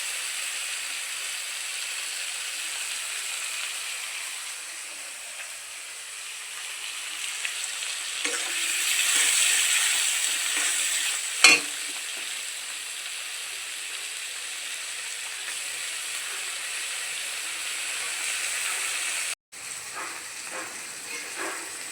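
Nyure (lote) fish cooking in hot oil with onion, ginger, garlic, tomato and green chili: a steady close sizzle and hiss runs throughout, swelling midway, with one sharp clink of a utensil.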